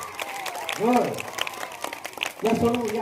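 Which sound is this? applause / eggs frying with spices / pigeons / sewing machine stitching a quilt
applause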